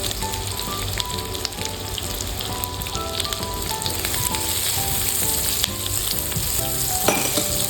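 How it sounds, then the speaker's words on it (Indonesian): Garlic sizzles in hot oil in a pan for a Japanese chicken katsu curry, giving a steady crackling fry throughout with occasional clinks. "Kemudian masukkan bawang putih 2 siung,"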